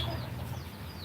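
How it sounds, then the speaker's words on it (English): A crow pheasant (coucal) gives a deep, booming bass call, heard as a low continuous hooting resonance throughout the short stretch, with faint bird chirps above it. "It doesn't crow like a crow. It has like deep bass sound."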